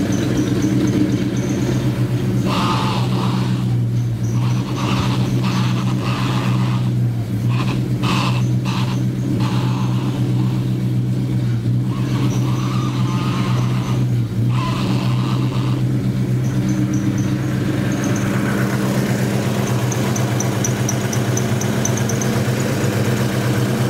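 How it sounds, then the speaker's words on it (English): A 1971 Dodge Dart Swinger engine idles with a steady low rumble after a power steering pump swap, while intermittent clicks and rustling noises come and go nearby. "we're gonna go ahead and start the car"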